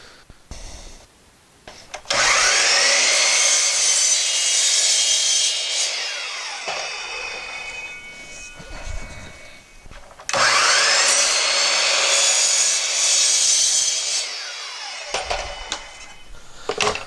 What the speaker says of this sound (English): So I'm just going to cut it to length now with my miter saw.